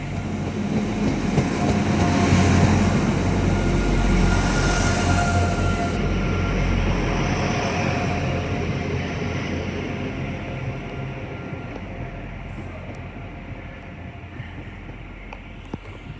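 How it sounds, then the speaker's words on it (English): Transport for Wales passenger train, a Class 175 unit, at Crewe station, a loud rumbling diesel engine and rolling hum right up close that slowly fades as it pulls away, with a faint click near the end. "1309 Transport for Wales service from Manchester Piccadilly to Milford Haven."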